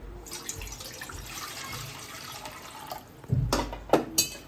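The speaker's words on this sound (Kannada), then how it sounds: "ಇಲ್ಲಿ ನೀರು ಹಾಕ್ತೀನಿ." Water splashes into a pot in a few short bursts near the end, after a stretch of quiet kitchen background.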